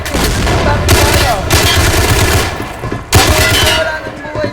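Rapid bursts of automatic gunfire fill a shooting video game, a dense rattling fusillade running almost continuously at close range, broken by brief lulls and renewed loud volleys, with faint voices mixed underneath.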